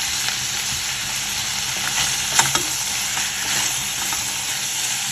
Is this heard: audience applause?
no